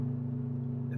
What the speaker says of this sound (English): Well, it has a boxer engine